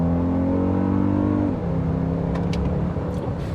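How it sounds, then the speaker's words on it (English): Toyota Grand Highlander Hybrid launching hard from a brake-torque start in sport mode with the front tires spinning, engine revving loudly up then dropping as it shifts, a faint chirp or squeal near the end. "We'll brake torque it and then let go. Just like the Lexus, it kind of spins out the front tires a little bit."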